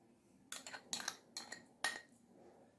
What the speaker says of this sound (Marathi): हे सर्व मिक्स करून घेऊ।